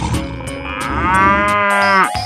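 A cow moos in one long, loud, drawn-out low call that bends downward at the end, standing alone with no talk over it and no other sounds in the background.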